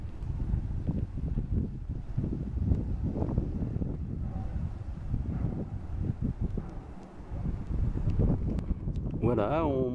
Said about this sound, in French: il y a un peu plus de vent, je sais pas si vous allez bien m'entendre